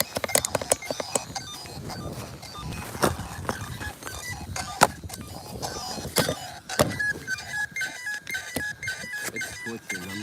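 An Arrma Granite Grom RC car running on ice and snow in the cold makes an odd, sputtering electrical whine with irregular clicks and pops, fairly faint and uneven throughout, with no talking.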